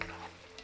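A brief, quiet sizzle of garlic and vegetables stir-fried in a pan for Uyghur big plate chicken, a soft frying hiss with a faint stir.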